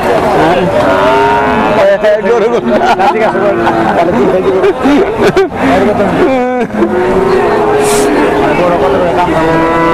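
Cattle low repeatedly amid a busy, noisy crowd at a cattle market, with steady babble of voices and some engine noise throughout.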